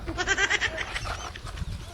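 A large, fat goat gives a short, wavering bleat close by, followed by low rustling and thumping.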